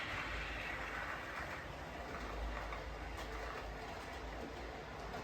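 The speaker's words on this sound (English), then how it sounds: "Now the trains are running, I can sleep well." Model trains run on a layout, giving a steady, faint rolling rumble with soft clicking from the track and a brief squeal midway. No one speaks.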